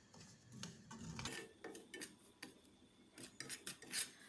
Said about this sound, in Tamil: கேசரி நல்லா கிளறி விட்டுக்கோங்க.